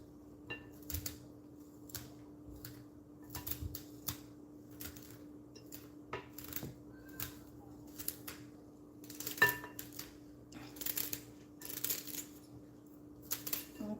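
Kitchen knife slicing through potato greens on a board, a quiet series of irregular crisp cuts and taps spaced across the stretch, with a faint steady hum beneath and no talking.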